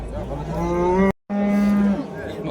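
A cow lows loudly and close by at an outdoor livestock bazaar in Shymbay, giving two long sustained moos separated by a brief break.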